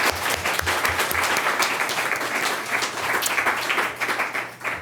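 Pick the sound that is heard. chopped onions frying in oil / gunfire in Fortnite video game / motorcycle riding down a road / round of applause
round of applause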